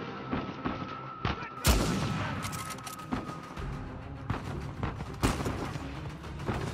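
Gunfire in the video game Uncharted 4: A Thief's End comes as a series of loud, sharp shots and booms at irregular intervals over a busy game soundscape.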